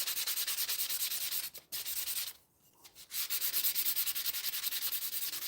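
Hand sanding with sandpaper in a workshop gives a close, steady rhythmic rasp of quick back-and-forth strokes, pausing briefly twice before carrying on.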